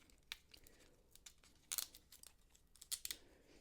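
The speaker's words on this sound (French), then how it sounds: "je vais essayer d'ouvrir mon emballage" Plastic packaging holding small gel-pen erasers being cut and torn open, a string of crisp snips and crinkling rips in short irregular bursts, near and fairly quiet.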